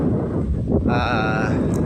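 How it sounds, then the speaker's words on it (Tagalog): Strong wind in Singapore roars steadily against the microphone, with a faint tonal hum rising partway through. "Grabe yung lakas ng hangin. Naririnig nyo ba? Grabe yung hangin."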